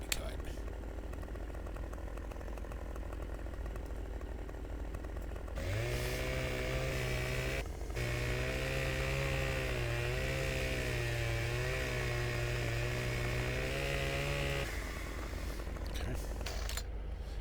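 A chainsaw in Farming Simulator 15 cuts trees, its buzzing engine revving up after a quieter start and holding a loud steady whine for several seconds before dropping away, with someone talking over it.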